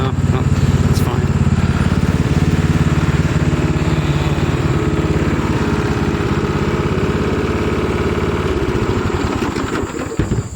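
Swapped-in engine of a stretched, lifted golf cart idling close by, a loud, steady, rumbling chug that slows and sputters toward the end.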